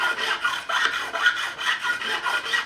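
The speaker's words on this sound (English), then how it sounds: "we'll come in with a profiling file, 2mm side, and we're just going to remove any burrs" A profiling file with a 2mm side works across guitar fret edges on a replacement Strat neck, removing burrs in steady back-and-forth rasping strokes, close and even, with no talking.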